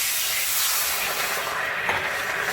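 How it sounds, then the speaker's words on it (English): Vegetable broth hitting a hot skillet, a loud continuous steamy sizzle and hiss held close and steady throughout. "I'm going to add a little bit of vegetable broth to it"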